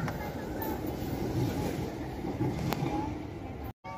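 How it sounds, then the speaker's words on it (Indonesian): Riding aboard the MTT train, a steady rumbling interior rail noise with a few faint clicks, continuous and moderately loud, cutting out briefly near the end. "kita ngevideoin di kereta api MTT."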